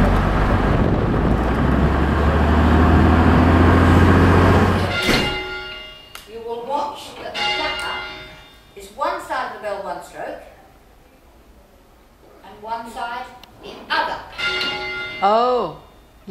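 A church bell rings loudly at a convict-built town hall in Australia dating from 1870, with a deep sustained hum for about five seconds before it cuts off and voices talk.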